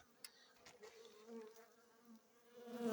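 Honeybees from a strong colony buzz steadily around a hive, a close, droning hum with shifting pitch that swells louder toward the end.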